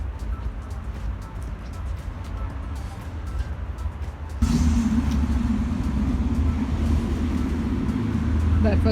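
A Porsche rumbles past nearby, its engine noise swelling suddenly midway and holding loud to the end, over a quieter outdoor background with some talk early on.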